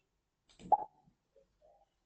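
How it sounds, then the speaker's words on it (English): A single short, soft pop sound effect from the Scratch coding program rings out, brief and close, in otherwise quiet surroundings. "so this is the pop sound."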